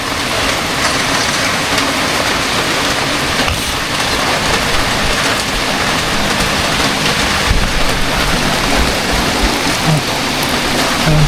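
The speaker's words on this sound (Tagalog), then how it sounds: "Ang lakas ng ulan pa." Heavy, steady rain pours down without letup, a dense roar of drops drumming on a nearby surface with no voices.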